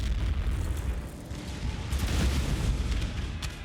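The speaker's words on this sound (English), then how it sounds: "Artillery is about to fire." Artillery in a strategy video game fires canister shot, producing a heavy, rumbling boom and a sustained low roar of battle noise that stays loud throughout, with no voices over it.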